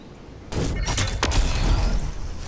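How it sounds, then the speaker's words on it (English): Fortnite gunfire crackles in a rapid, continuous burst of shots and impacts, moderately loud and fairly close, starting abruptly and running through with dense clatter and booms. "because I heard firing"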